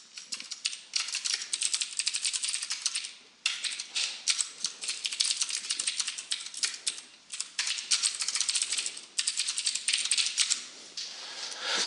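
Fast, steady typing on a computer keyboard while entering C# code, with dense clicking bursts, brief pauses, and loud close key rattle throughout, with no talking.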